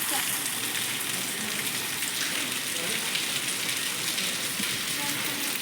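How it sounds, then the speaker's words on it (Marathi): Rain falling as a constant, dense hiss, close and even throughout with no distinct pauses. "आत्ता थोडा पडा लागला पाऊस"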